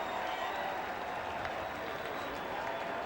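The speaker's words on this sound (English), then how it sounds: "The crowd reaching new decibels before that snap" A packed stadium crowd at a CFL football game between Calgary and Saskatchewan roaring before a snap, a dense continuous wall of cheering and clapping heard from within the stands, moderately loud and unbroken.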